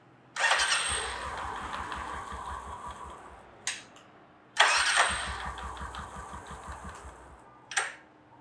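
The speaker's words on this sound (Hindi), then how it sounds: "तो देखते हैं अब गाड़ी स्टार्ट हो रही है या नहीं हो रही।" A Royal Enfield motorcycle fitted with a new Omega one-way clutch is started twice: each time the starter whirs and the engine catches into a loud, rapid idle, then cuts off with a short clack.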